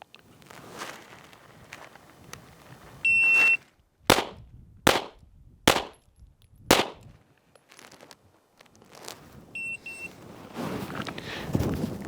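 Four sharp handgun shots in a concealed carry baseline drill, each a loud, close crack followed by a brief echo. They come at an even pace of about one per second, with timer beeps before and after.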